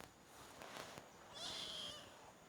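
A cat gives a single faint, drawn-out meow midway through, amid quiet background noise and a few soft knocks.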